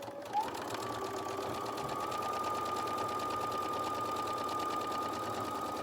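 A sewing machine stitches a seam on a DIY zippered coin pouch, running at a steady, even whir with rapid mechanical ticking close by, continuous and without talk.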